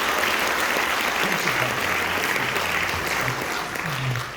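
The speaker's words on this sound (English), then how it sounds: "One more round of applause for the class of 22 of the concert band" Steady audience applause at a high school end-of-year concert for the graduating concert band members, with faint voices murmuring underneath.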